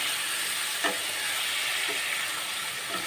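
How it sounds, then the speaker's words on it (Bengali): Water is poured into a pan of frying potatoes for a vegetarian potato, capsicum and paneer dish, producing a steady close hiss of sizzling with a few faint bubbling pops. "এখন একটু জল অ্যাড করে দেবো জলটা দিলে আলুটা আপনার ভালো সিদ্ধ হয়ে আসবে"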